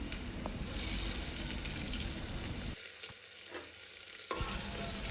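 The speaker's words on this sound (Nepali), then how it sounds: "अब यी सबैलाई फ्राई गर्ने। प्याज चाहिँ यसको कलर चेन्ज भएसम्म।" Onion fries in hot oil alongside a clove, a bay leaf and a cinnamon stick, giving a loud, dense crackling sizzle that dips briefly midway before resuming, with no talk.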